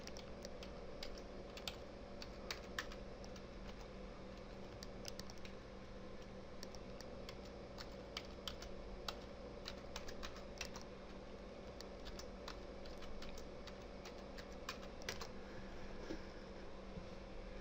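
Someone types a password on a computer keyboard: a scattered series of light key clicks at an uneven pace, close but quiet, over a steady electrical hum, with no talk.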